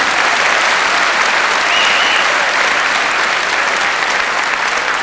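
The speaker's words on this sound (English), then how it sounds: "Give yourselves a round of applause, please." A school Christmas concert audience at Wausau West applauds loudly and steadily throughout, a dense, continuous wash of clapping with no break and no one speaking.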